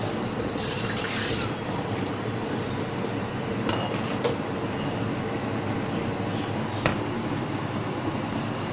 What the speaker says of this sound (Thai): เราจะเอามาล้างก่อนค่ะ นะ มาล้าง ล้างทำความสะอาดนะคะ ด้วยน้ำธรรมดานี่แหละค่ะ